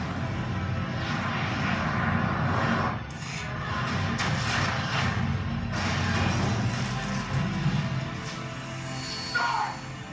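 Aircraft roaring overhead in a film scene, a steady loud engine drone with brief dips and swells, faint voices mixed in beneath the engine noise.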